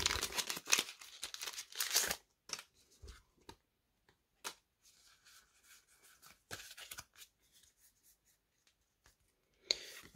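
Pokémon card booster packs from a Pachyradjah V box being torn open, close and crisp, with bursts of crinkling foil and paper ripping separated by quiet pauses, no talking.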